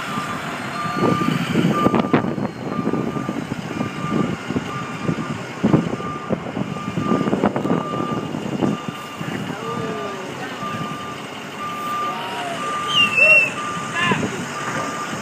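A truck backs up with its reversing alarm giving a steady, regular series of beeps over a rumbling engine, while people talk intermittently nearby and wind buffets the microphone.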